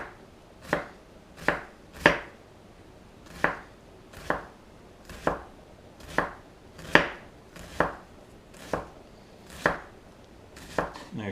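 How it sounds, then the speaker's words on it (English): A sharp knife slices through Scotch eggs on a board in steady, evenly spaced cuts, about thirteen crisp strikes, close and alone with no talk. "Now if you've got a nice sharp knife, which this is, you just slice it, no problem."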